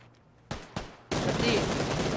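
Gunfire in a battle royale game scrim: two sharp separate shots, then a sustained loud burst of rapid automatic fire, with an excited voice talking over it.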